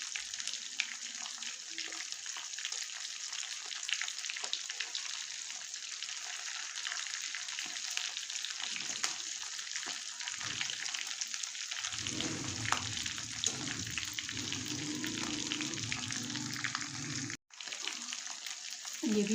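Chicken drumsticks fry in hot oil with a steady, close crackling sizzle throughout, briefly joined by a lower bubbling stir toward the end and a short cut near the finish.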